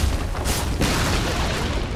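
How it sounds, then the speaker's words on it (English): A tower collapses in Dota 2 with a pair of heavy booming impacts in quick succession, followed by a sustained rumbling, crashing wash of sound. "Radiant's top tower has fallen"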